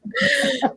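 A single short sneeze from a woman, close and fairly loud, with a brief sharp burst at the end.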